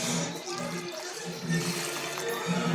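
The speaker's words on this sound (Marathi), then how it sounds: "आता यामध्ये आपण पाणी घालून घ्यायचं" Water pours steadily into a bowl of washed rice and lentils set to soak, with a continuous close splashing rush that lasts the whole moment.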